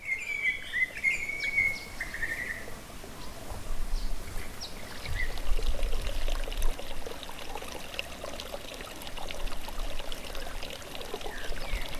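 Water streams and trickles steadily through a creek on Aboriginal country, a continuous broadband wash with occasional bird calls over it and no voices.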